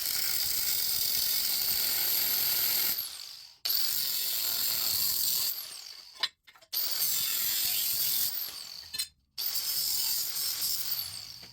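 A hand ratchet tightens a bolt on an inner fender support bracket of a custom 1953 Chevy truck, with long runs of rapid, loud pawl clicking near the mic, broken by brief pauses and short bursts.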